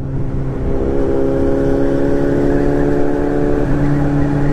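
Motorcycles on a group ride near Porto Mendes roar past nearby in a steady, loud drone of engines, with a shift in pitch as one passes and another follows.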